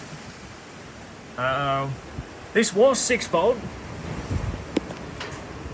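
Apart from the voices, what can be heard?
wind and rain outdoors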